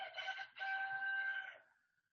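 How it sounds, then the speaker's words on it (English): A real rooster crows once, a long drawn-out cock-a-doodle-doo with a brief break in the middle, clear and fairly close against a quiet background. "I heard that rooster, and that's not a android. That's a real rooster."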